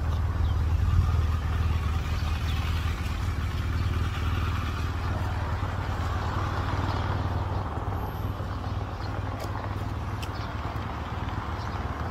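A Harley motorcycle cruising along a Malaysian highway on a long road trip, its engine a steady low rumble with road and wind noise running continuously and evenly throughout, no voices.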